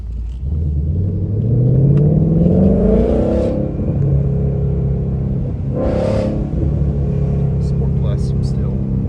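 A Ford Mustang sports car engine revs up and pulls hard, its pitch climbing, then drops and revs again, loud and close over a continuous rumble.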